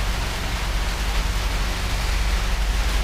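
Heavy rain pours in a dense, steady hiss with a deep low rumble underneath, loud and unbroken throughout with no distinct drops standing out and no voices.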